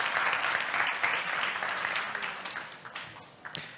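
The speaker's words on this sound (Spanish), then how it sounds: "Esperemos repetir los aplausos al final si os ha gustado" Conference audience applauds a speaker taking the stage at a ceramics industry talk, a dense wash of clapping that gradually thins and tapers off near the end.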